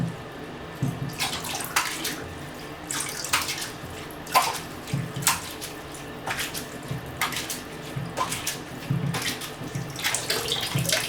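Water pours and splashes in irregular bursts as developed C41 film is rinsed under a tap, close and fairly quiet, with gaps between the gushes and no talking.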